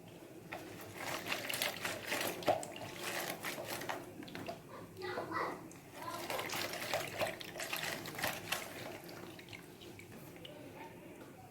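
Bitter oranges are squeezed by hand, producing faint, wet dripping and trickling juice in quiet, irregular bursts across the whole stretch.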